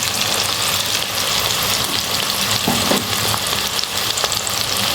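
Spices of fresh coriander, Kashmiri chili and salt being stirred into a potato and egg mixture frying on low heat, a steady loud sizzle with occasional soft scrapes of a spoon throughout.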